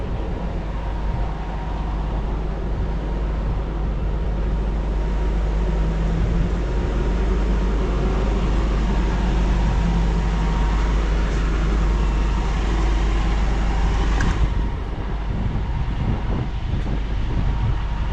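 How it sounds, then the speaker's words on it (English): A number 104 bus pulls into a car park in Palmanova, Majorca, its engine a steady low rumble close by, with wind noise mixed in throughout. "There's a bus arriving."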